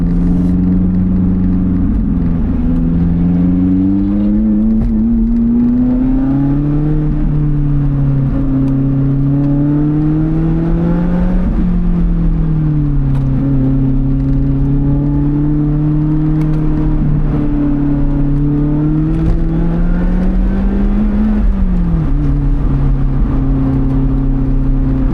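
A 2020 Lotus Elise Cup 250 engine heard from inside the car on a Swiss road, a steady mid-revving drone with rising and falling harmonics as the driver eases through gear changes, continuous and fairly loud throughout.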